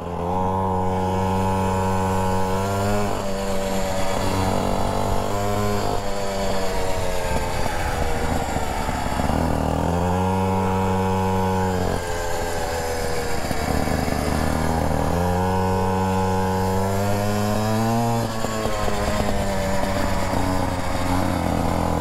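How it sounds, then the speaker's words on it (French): A mini motorbike engine revs hard in repeated surges, each climb rising slowly before dropping back, loud and close throughout with no voices. "la moto, elle part vraiment vers la fin, en fait. Elle met du temps à monter dans les tours."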